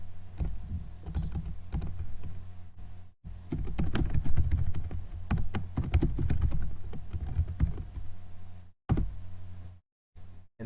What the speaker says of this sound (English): And then you want to type this command, Perl, and then the name of the PMPE file